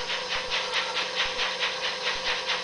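A steam train chugs in the video game The Legend of Zelda: Spirit Tracks, with rhythmic hissing puffs repeating steadily over a continuous mechanical hum, no talk over it.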